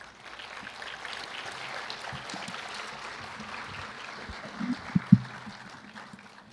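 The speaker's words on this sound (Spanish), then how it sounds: "Démosle un aplauso." An audience at an academic lecture on education and democratic coexistence gives a round of applause, a soft continuous patter of clapping with a few louder claps near the end.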